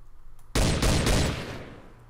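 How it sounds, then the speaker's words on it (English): A semi-automatic scoped rifle in modded Minecraft fires one loud, close shot that rings out and fades slowly over the next second and a half. "I'm guessing it's like a semi-automatic type rifle"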